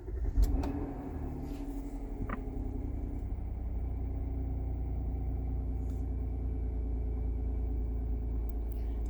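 A 2019 Kia Sorento 3.3L engine with a misfire starts with a brief cranking burst, then settles into a steady low idle rumble heard from close by, with no voices.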